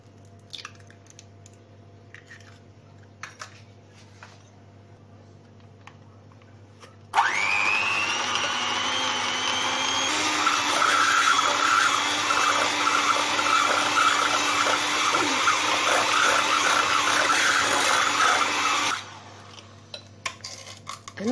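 An electric mixer whirs into butter, sugar and egg, starting abruptly, running loud and steady with a pitch shift partway through and a busy beating rattle, then cutting off to quiet kitchen clatter.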